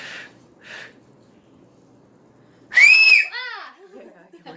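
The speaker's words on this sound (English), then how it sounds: "Can you whistle? Can I whistle?" A person tries to whistle, producing a short, wavering whistled tone with a sliding pitch, followed by brief breathy vocal sounds; two soft voice bursts come before it against a quiet background.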